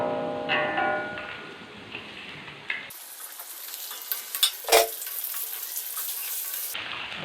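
Chicken, 1.5 kg, tipped into a pot of browned onions for Sindhi biryani, with a sizzling fry, stirring clatter and a few sharp knocks, close by, no voices.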